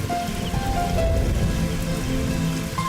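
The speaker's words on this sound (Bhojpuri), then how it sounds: "देखा कितना जोर से बारिश हो रहा बा" Heavy rain pours down steadily, a dense, continuous patter drumming on surfaces close by for the whole stretch, with no voices.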